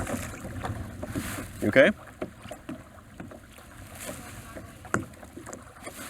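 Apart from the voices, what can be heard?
paddling a canoe or kayak on water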